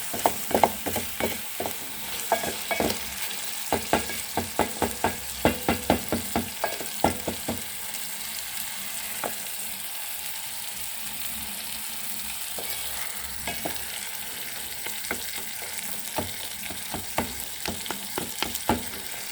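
Beef is fried with curry powder and garam masala in a pot, giving a continuous close sizzle broken by frequent sharp clacks and scrapes of stirring throughout.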